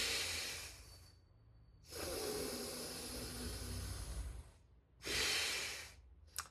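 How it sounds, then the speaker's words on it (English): Deep breathing during a yoga abdominal lock exercise (uddiyana bandha): three long, close, airy breaths with near-silent pauses between them, one long breath in the middle and a shorter one near the end. "Now breathing."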